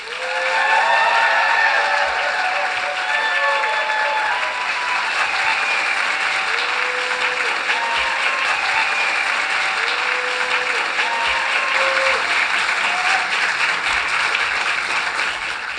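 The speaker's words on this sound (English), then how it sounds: "Please join me in a round of applause for Dr. Kate McKenzie." Sustained audience applause at a human rights award gala, loud, dense clapping from a large room that holds steady for over fifteen seconds, with a few voices and cheers rising within it.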